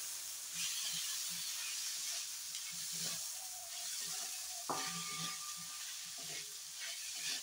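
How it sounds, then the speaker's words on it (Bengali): Rice coated in ghee, turmeric and ginger fries lightly in a pan, a soft steady sizzling hiss with occasional stirring scrapes, fairly quiet and close. "চালটাকে এবার এর মধ্যে দেওয়ার পর হালকা একটু ভেজে নিতে হবে।"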